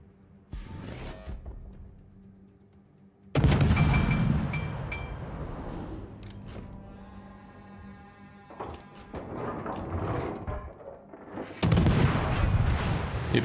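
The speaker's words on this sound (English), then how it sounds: "All stations, concentrate fire on the target." Naval guns fire on a target in a World of Warships-style destroyer game with Japanese destroyers, heavy booming salvos near the start and a louder burst of blasts later, with rumbling gaps between.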